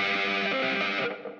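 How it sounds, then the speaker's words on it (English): A sustained electric guitar chord from an intro rings out, thick with distortion and a washy reverb tail that slowly fades at the end, with no voices. "Now we add the reverb back."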